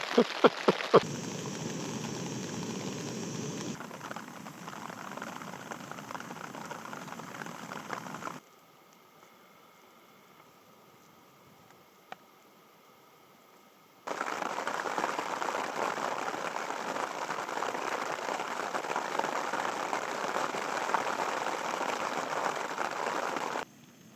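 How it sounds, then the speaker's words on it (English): Steady rain patters on a tent during a wild camping night in the Derryveagh Mountains of Donegal, a dense close hiss that drops to a near-silent lull midway before the downpour resumes just as strongly. "As you can hear, it's raining away"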